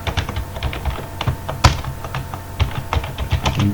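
Rapid typing on a computer keyboard, a close, steady patter of key clicks with one heavier tap near the middle, alone and without speech.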